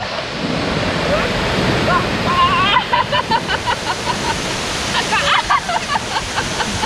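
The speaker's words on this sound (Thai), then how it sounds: "สวยมากเลยนะคะน้ำตก" Huai Luang waterfall in Phu Chong–Na Yoi National Park, its steady broadband rush of falling water filling the clip, with people talking and calling out over it, voices growing busier toward the end.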